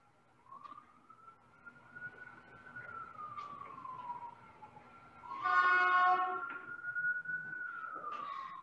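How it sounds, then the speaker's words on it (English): A siren wails in slow rising and falling sweeps, passing at a moderate distance with a brief louder burst midway; no talking. "I'm just waiting for a siren to go by"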